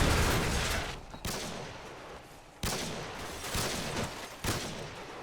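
Rapid bursts of gunfire in Call of Duty: Modern Warfare 2 crackle continuously, with several sharp loud volleys cutting in over a dense, noisy background of shooting.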